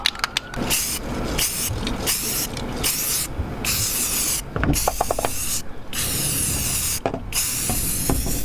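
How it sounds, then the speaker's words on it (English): Bursts of primer hiss from an aerosol spray can onto a repaired crack in the fiberglass front of a bus, short sprays broken by brief pauses, close and steady, with no talk. "I'm gonna get my primer and I'm just gonna spray over that and make sure it looks right."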